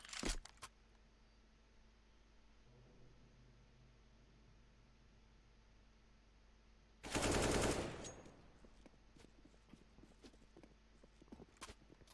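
Tech-9 pistol fire in a competitive first-person shooter match, heard as a single loud burst of rapid shots lasting about a second, standing out from a quiet, low game background with faint clicks afterward.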